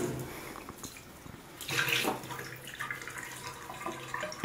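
Murky water pours from a tipped 20-gallon musk turtle tank into a tub, a faint steady splashing stream that swells briefly in the middle, with no talk.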